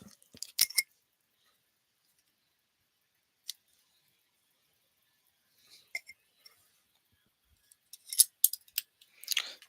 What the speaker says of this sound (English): So I'm tying a knot and I'm going to cut this one.